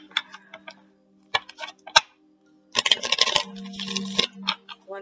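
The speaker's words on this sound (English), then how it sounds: "One more shuffle, and then I'll cut for you" Tarot cards being shuffled by hand, crisp rapid riffling bursts and taps in short separate runs, with a longer dense riffle near the end, close and fairly quiet with no talk.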